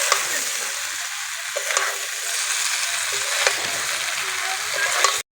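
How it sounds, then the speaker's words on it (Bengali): Potato, green jackfruit and prawns stir-fried in a pan, a loud, close, steady sizzle with a spatula scraping through the mix in periodic strokes about every second or two, stopping abruptly at the end, no voices. "আলু, এঁচোড় আর চিংড়ি মাছটা ভালো করে কষিয়ে নেব।"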